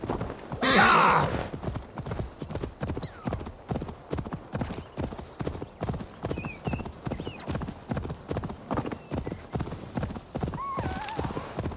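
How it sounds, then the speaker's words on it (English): A horse trots steadily in Assassin's Creed Valhalla, its hooves clip-clopping in a fast, even rhythm that runs throughout, with a short whinny near the start and faint game sounds beneath. "from here I'm just gonna take the horse"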